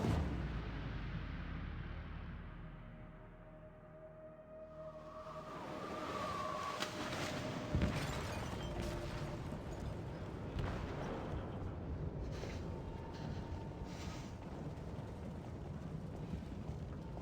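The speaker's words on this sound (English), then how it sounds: "They detonated an explosive in the hold." In Detroit: Become Human, an explosive goes off in a ship's hold: a deep rumbling boom that swells into sustained broadband roar with a sharp crack partway through, then a long churning rumble underneath.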